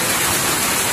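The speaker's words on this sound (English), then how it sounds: "It's raining here in San Fernando." Steady, dense rain falls in San Fernando, Cebu, a loud continuous hiss with no breaks and no voices.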